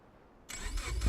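The 4-cylinder, 2.2-liter boxer engine of a 169-horsepower land-speed race car fires up abruptly after a brief hush, then settles into a rough, swelling rumble at close range.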